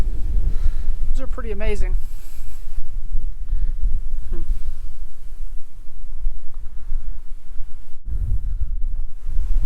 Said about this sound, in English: It'd be a lot nicer if it wasn't so damn windy.